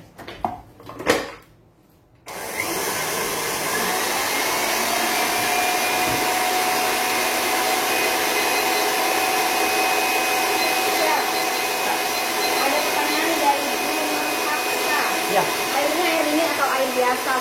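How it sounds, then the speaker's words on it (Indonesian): An electric mixer beats cake batter at high speed, starting abruptly after a few brief clatters and then holding a loud, steady whirring drone that runs for about fifteen seconds. "lalu kita aduk pada kecepatan tinggi kurang lebih 3-4 menit atau tergantung kecepatan mixer baking lover di rumah"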